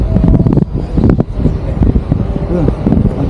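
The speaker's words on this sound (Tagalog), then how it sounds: "Sarap ng hangin dito." Wind buffets the microphone in rough, rumbling gusts at the Alcazaba fortress in Malaga, Spain, with faint voices and other sounds mixed beneath the noise.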